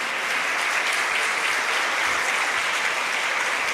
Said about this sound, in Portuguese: Será que a gente pode aplaudir a palavra do Senhor?